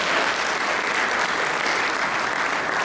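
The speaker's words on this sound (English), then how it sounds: "give him a nice round of applause" A crowd applauds steadily at a city inauguration ceremony, honouring a newly sworn city constable; the clapping is dense, even and sustained throughout with no voices over it.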